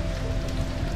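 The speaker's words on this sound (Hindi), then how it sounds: "बारिश हो रहा है बाहर" Steady rain patters continuously on a surface, a dense, even wash of drops with no voices.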